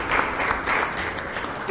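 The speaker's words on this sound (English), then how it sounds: "Please clap for him as he comes on stage." Sustained audience applause fills a stage event at a fraud-detection technology panel as a speaker walks on, steady dense clapping with no voices over it.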